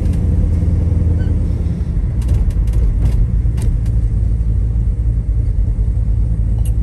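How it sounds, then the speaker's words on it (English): A 1972 Chevrolet Nova engine idling steadily at about 700 RPM with a deep, even rumble, close and continuous, with faint clicks and rattles over it and no talking. "Running right, running about 700 RPMs, holding its own really well."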